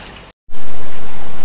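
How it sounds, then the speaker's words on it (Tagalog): Light drizzle patters steadily outdoors as a broadband hiss; it cuts out briefly, then returns louder and continues alone. "Medyo inubutan lang tayo ng ambon dito."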